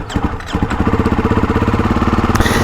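A Ducati Hypermotard 698 Mono single-cylinder motorcycle cranks over and catches, settling into a loud, close, lumpy idle with evenly spaced heavy pulses.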